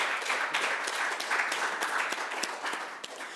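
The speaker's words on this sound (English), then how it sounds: "Let's give another round of applause to all of our speakers today." A crowd applauds steadily for a few seconds, a dense wash of many hands clapping at a fairly even level.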